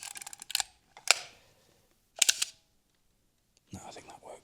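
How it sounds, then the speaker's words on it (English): A film camera shutter fires with sharp mechanical clicks heard up close in an abandoned quarry, several brief snaps separated by silence, with a voice speaking briefly at the end. "I feel like the shutter might be a bit weird on this."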